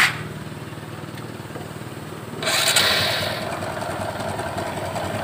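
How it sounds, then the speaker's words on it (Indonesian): Rough-running motorcycle engine with oil changed too late, idling with a harsh, rattly drone that rises in intensity a couple of seconds in and then holds steady, close up. "begitu motor diisi oli langsung berasap dan suaranya juga kasar"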